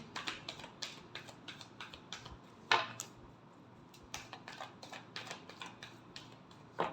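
Tarot cards being shuffled by hand give a quick run of crisp, light clicks and flutters, with one sharper snap partway through, close and fairly quiet with no talk.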